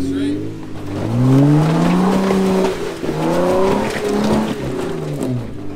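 A Jeep's 3.6 engine revs hard, bouncing off the rev limiter, its pitch climbing and wavering near the top of its range, loud and close with repeated surges.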